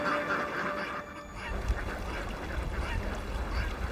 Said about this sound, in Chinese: 6000只鸭子呼啸而来